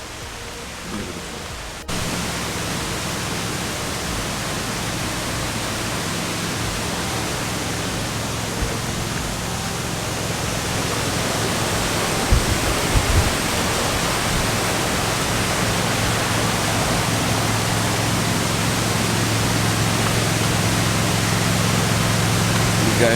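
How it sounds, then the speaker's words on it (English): Steady, loud roar of rushing water at Reach Falls in Jamaica, a dense broadband wash that continues unbroken throughout, with no talk over it. "You guys should be able to hear the rushing of the water already."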